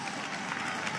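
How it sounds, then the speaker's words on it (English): A Barcelona crowd applauds and cheers the Movistar cycling team, a dense, continuous wash of clapping and voices throughout. "Movistar squad getting an extra special cheer from the crowd here in Barcelona"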